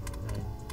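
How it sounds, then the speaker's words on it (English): Several quick, faint key presses on a computer keyboard, evenly spaced clicks of the left arrow key in under a second, with no talk. "with your arrow keys, left arrow key, 15 steps, right? 15 clicks"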